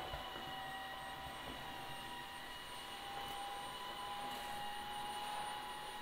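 A Tesvor R5 cordless wet-dry vacuum and mop runs with a steady, close drone and a high whine. It holds level for the whole stretch while being pushed over a floor, with no talk.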